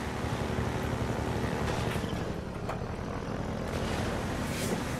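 A helicopter flying in an Oculus Rift virtual reality game, heard as a steady, loud rotor-and-engine drone with a few brief swells and whooshes over it.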